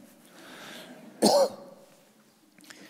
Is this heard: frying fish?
no